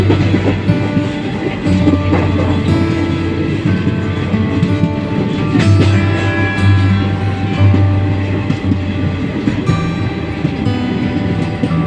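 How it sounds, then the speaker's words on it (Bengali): A train pulls away from Barabhum station in Purulia, its steady low rumble and clickety-clack of wagons rolling continuously and loudly close by, with no talk over it. "এই যে ট্রেন ছেড়ে যাচ্ছে"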